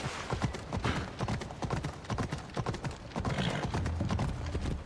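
Horse hooves clip-clop in a quick, steady rhythm of many close, crisp beats in Assassin's Creed Odyssey, the video game, continuing without pause over a dense game soundscape with no talking.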